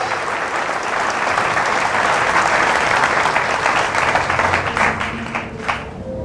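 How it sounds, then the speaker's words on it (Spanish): Congregation at a Catholic service gives loud, full applause, a thick steady roar of hands clapping that thins slightly toward the end. "Fuertes aplausos al Rey de Reyes y Señor de Señores."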